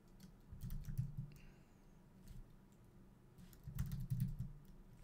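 Computer keyboard typing comes in two short bursts of quick, soft key clicks separated by a quieter pause, close but faint, with no talk.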